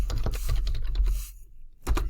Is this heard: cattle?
no